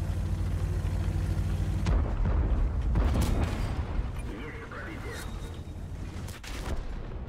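A Škoda tank's cannon shot hits its target in World of Tanks, with a loud blast cutting sharply through the engine drone, followed by a second crashing impact and a later, fainter report.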